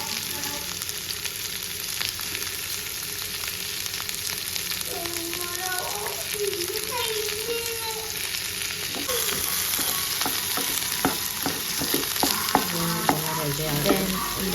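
Shallots with cardamom, cinnamon and cloves fry in hot oil in a pan, giving a continuous close sizzle with occasional stirring scrapes, while a voice hums or speaks faintly underneath.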